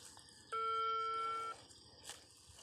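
A mobile phone ringback tone when calling a father's phone, one steady electronic tone lasting about a second, heard alone against faint outdoor background with a brief click afterward.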